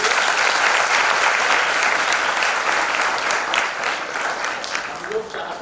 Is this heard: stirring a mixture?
no